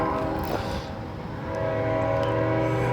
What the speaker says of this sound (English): we got a northbound Norfolk Southern coming here